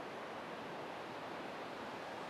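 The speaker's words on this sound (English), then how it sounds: "get some really good waves along here." Waves roll onto the wide, flat sand of Rhossili Bay in Wales, a soft continuous surf wash heard from a distance with no voices.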